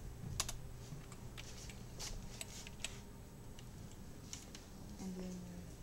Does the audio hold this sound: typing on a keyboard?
yes